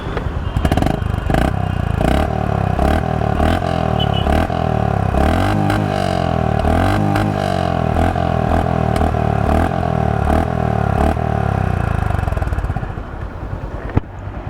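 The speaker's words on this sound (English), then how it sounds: "So let's hear the exhaust note of the motorcycle now." A Honda H'ness CB 350 motorcycle idles and is revved, a loud, close, steady thumping exhaust note with repeated throttle blips rising and falling before the engine cuts off near the end.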